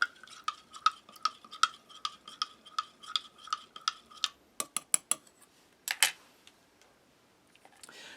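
A metal spoon clinks rhythmically against the inside of a cup of MRE coffee, about a dozen evenly spaced ticks, then a few sharper taps and a brief rustle before quiet.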